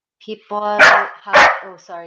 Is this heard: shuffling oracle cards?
no